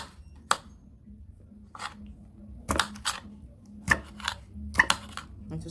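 A knife dices cored pineapple on a cutting board, giving quiet, irregular chopping taps with short gaps between them and a faint background hum.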